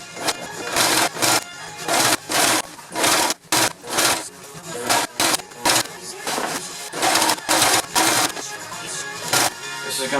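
Thick layers of a boat bimini strap are fed through a sewing machine, which drives hard in a steady series of loud, close, rhythmic stitching bursts separated by brief stops.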